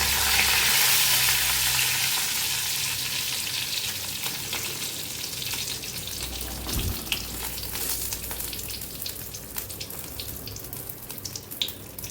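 Cinnamon stick, a split cardamom pod and a bay leaf hit hot oil left from frying paneer, giving a loud, steady crackling sizzle that eases slightly over time, with occasional spoon scrapes and no talking.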